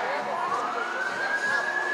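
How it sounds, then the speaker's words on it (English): Emergency vehicle siren wailing steadily from a distance across a busy outdoor evening waterfront crowd in Scottsdale, Arizona, its rising tone sustained throughout under a constant murmur of ambient noise. "Oh boy, there's the sirens."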